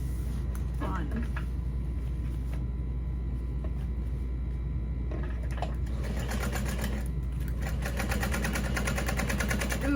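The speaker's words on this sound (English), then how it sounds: "And then we will top stitch that" A sewing machine top-stitches a backpack, humming steadily and closely all the way through, with bursts of faster stitching toward the end and a voice faintly underneath.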